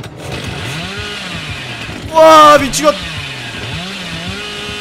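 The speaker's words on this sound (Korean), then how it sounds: "나 전기톱 소리가 아주 생생하구만." Chainsaw from the killer in Dead by Daylight, a loud revving burst lasting under a second midway, with excited talk running throughout.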